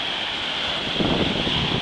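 A strong south-westerly wind blows steadily off the open sea at Premantura, a broad constant roar of gusting air buffeting the microphone, with no voices.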